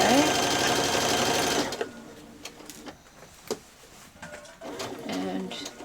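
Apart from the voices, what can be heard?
sewing machine stitching a seam on a child's dress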